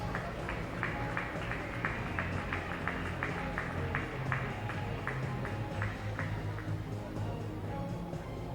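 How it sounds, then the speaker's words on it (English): Steady applause from a swimming-meet crowd at a para-swimming international finals, many hands clapping in a continuous patter that sustains evenly under a reverberant hall ambience. "Ladies and gentlemen, a round of applause for your medal winners."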